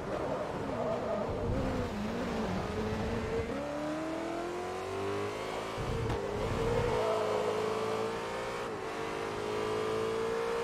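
A BMW race car engine in Forza Motorsport 3 drones and revs through rising and falling gear pitches, with shifts and brief skid-like bursts, loud and continuous throughout.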